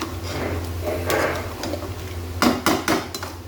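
Chicken karahi masala being stir-fried in a pan for a white karahi: a low steady cooking hum and sizzle, then three or four sharp metallic clacks of a spoon against the pan near the end.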